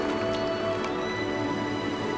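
Steady rain falls in the video game LOTRO (The Lord of the Rings Online), an even, dense patter and hiss with no pauses and a faint tonal hum beneath.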